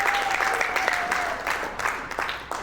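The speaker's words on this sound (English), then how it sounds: "Let's give her a round of applause." A graduation ceremony audience breaks into a thick wash of clapping, loud and continuous, with faint crowd murmur and a thin whistle-like tone drifting underneath.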